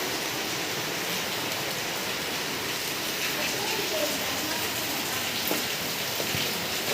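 Steady rain falls over Chennai during a storm, a dense even wash of hiss with scattered faint drips and no breaks, heard without voices.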